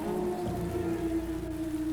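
Steady rain falling without pause, a dense continuous hiss with a low rumbling bed and no voices.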